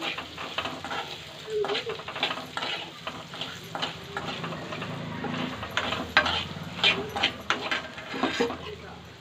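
Raw mango pieces are stirred in a hot pan, with steady sizzling and frying throughout and repeated scraping clicks from the spoon against the pan, close and fairly quiet.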